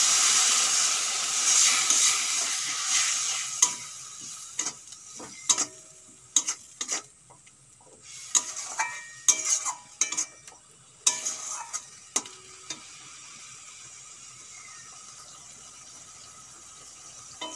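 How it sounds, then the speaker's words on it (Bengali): Spices for a dry fish curry, including chilli powder and salt with a splash of water, sauté in a pan. A soft hiss fades early, then scattered sharp clinks and scrapes of stirring follow, close and intermittent. "মশলা কষানো হয়ে গেছে।"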